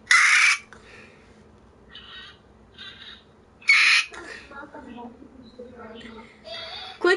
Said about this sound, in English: wanna hear an eagle?